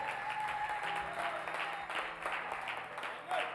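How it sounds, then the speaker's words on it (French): A church congregation applauds steadily throughout, a dense, continuous wash of clapping from a crowd filling the room, with faint voices mixed in. "Let's applaud for the Lord."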